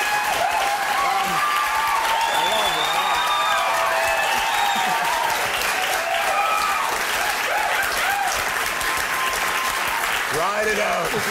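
Studio audience applause and cheering for Jake Gyllenhaal on a television talk show, loud, dense and sustained throughout, with voices and whoops mixed into the clapping.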